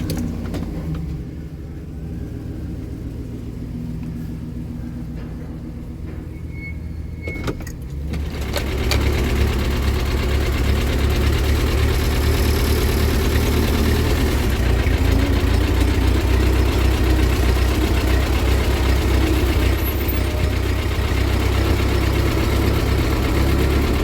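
A 1952 Ford 8N tractor engine starts after a few quiet seconds with faint clicks, then runs in a steady, loud, close low rumble with a slightly uneven chug that continues to the end.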